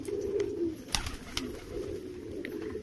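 Soft, low coos of pet flying pigeons repeat close by, along with a few light taps and rustles, and no one speaks.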